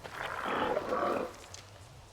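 Pig-like mutant creature noises from S.T.A.L.K.E.R. 2, a sustained grunting, roaring snarl that swells for about a second and then trails off, moderately loud against a faint ambient background.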